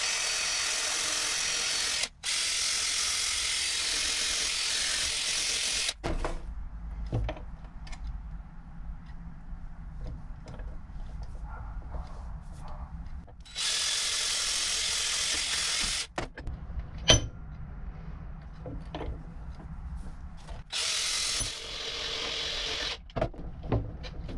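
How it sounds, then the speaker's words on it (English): Intermittent scratchy bursts of a wire brush scrubbing a hose clip from a Rover P4, several separate rough passes with quieter handling noises and small clicks between them. "Wire brushing a hose clip."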